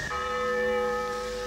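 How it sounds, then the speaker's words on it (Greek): A large church bell rings with a loud, sustained metallic tone rich in steady overtones, one long resonant stroke filling the space with no voices. "η μεγάλη καμπάνα"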